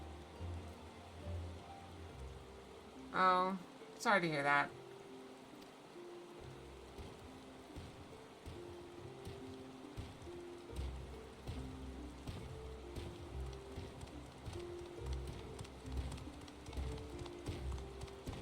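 Soft, continuous rain patter and hiss in a Final Fantasy XIV forest zone runs under a brief spoken remark, a steady wash of drops with a low rumble beneath.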